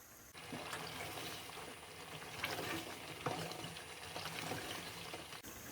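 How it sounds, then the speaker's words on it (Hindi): Chicken korma frying in a pot over high flame, a steady broadband sizzle and bubbling that runs evenly throughout with a few sharper spatters, no talking. "अब हम तेज आंच पर इसको भून लेंगे।"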